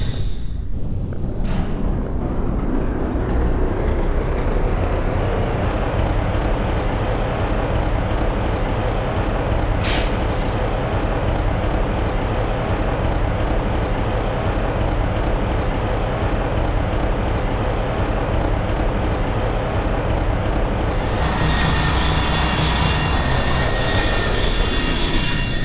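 A train ride in the video game Half-Life 2 gives a steady, loud rumble of rolling rail cars, with clattering wheels and brief squeals and hisses running throughout.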